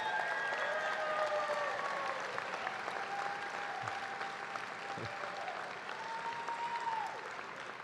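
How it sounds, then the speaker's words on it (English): Crowd applause in a convention hall for the staff and camera crew, steady moderate clapping with faint whistles or cheers mixed in, tapering a little at the end. "let's give them a round of applause"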